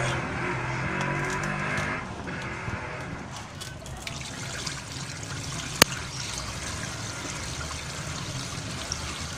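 Water trickles and pours off soaking ingredients as the liquid is changed, a steady splashing stream that softens after a couple of seconds, with a single sharp click midway and no talk.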